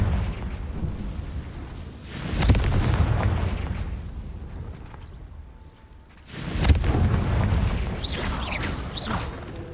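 Confringo fire spell explosions in the video game Hogwarts Legacy: two heavy booming blasts a few seconds apart, each followed by a rumbling, crackling tail.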